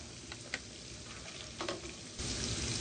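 Garlic-ginger paste, cumin and spices frying in hot oil, with a steady low sizzle, a couple of faint spoon clicks, and a brighter burst of hissing near the end.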